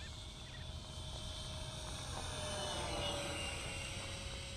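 A Hobby King Hall Cherokee RC model airplane makes a full-throttle pass outdoors, heard as a thin, faint, sustained engine whine from a distance that swells slightly as it goes by.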